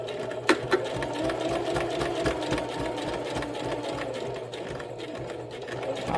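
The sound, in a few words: sewing machine stitching a flat felled seam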